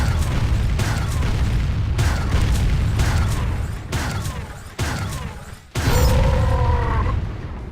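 Weapon fire in the Tribes Aerial Assault game on PS2 during a training module, a loud, dense run of booming blasts repeating roughly every second, with a sharper burst near the end.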